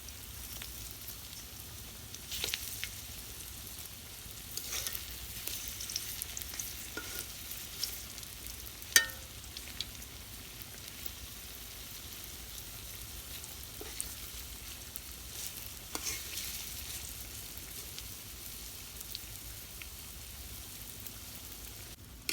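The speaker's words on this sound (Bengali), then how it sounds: "পিঠাগুলো এই যে উল্টাই দিতেছি, সুন্দরভাবে ভাজা হইলে নামাই দিব।" Quiet, continuous sizzle of palm-fruit batter cakes frying in oil, broken by occasional clinks and scrapes of a utensil turning them.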